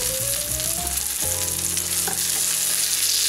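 Vegetarian burger slices fry in a pan with a loud, constant sizzle close by, joined by a clink and a shift in tone as something is set down, with no voices.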